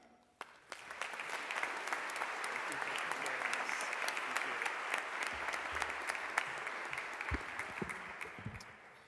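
A commencement audience at an occupational therapy graduation breaks into sustained, even applause that swells quickly and carries on loudly for several seconds before tapering.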